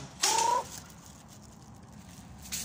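A single bright, tonal chicken call rises briefly over a low background rumble, with a fainter short sound near the end, from pet chickens being fed rice and water.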